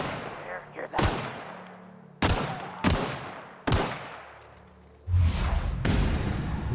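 Gunfire in the game The Outer Worlds: Spacer's Choice Edition, a series of sharp, loud shots in irregular bursts, each ringing out with a decaying tail, ending in a rapid cluster near the close.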